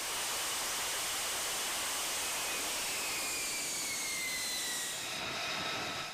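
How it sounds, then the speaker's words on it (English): An F-35 fighter hovers in a vertical landing onto an aircraft carrier deck, its jet engine a loud, constant roar and hiss with rising whining tones near the end, and no voices. "this system allows the jet to descend in a controlled hover and settle onto the deck"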